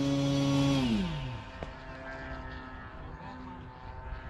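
An FMS Pitts 1400mm model airplane's engine buzzes loudly and close, its pitch dropping sharply as it winds down, then a fainter steady drone under outdoor ambience.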